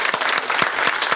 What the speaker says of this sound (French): On va applaudir Jean-Baptiste, le comédien.